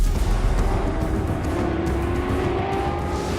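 A Ford GT40 race car driving fast, its engine a loud, continuous roar with rising harmonic tones through the whole stretch, sounding close and steady with no talking.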